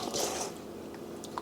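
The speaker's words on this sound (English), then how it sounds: "I'm just going to pour it onto the pan, like you may have heard earlier." Sauce for a chicken and sausage dish is poured onto a pan, giving a soft wet squishing splash up close followed by quieter drips and gentle liquid sounds.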